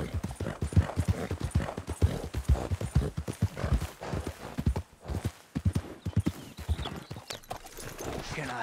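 Horse hooves clip-clop in a steady walking rhythm in the Western video game Red Dead Redemption 2, the hoofbeats close and clear while a character's voice talks over part of it.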